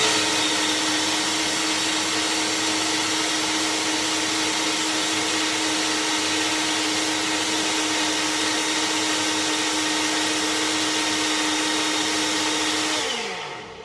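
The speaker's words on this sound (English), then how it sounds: "now we're gonna put this lid on there, and we are going to blend it. This is why I like my Ninja." A Ninja blender runs loud and steady for about thirteen seconds, a dense continuous motor whine with a constant pitch that drops briefly as it shuts off at the end.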